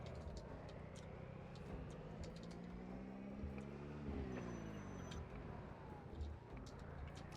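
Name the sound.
car engine in Project Zomboid video game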